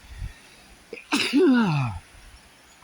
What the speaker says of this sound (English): I'm going to pipe up and I'm going to sneeze.